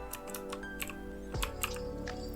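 A terminal command is typed on a computer keyboard: light, irregular key clicks over steady background music.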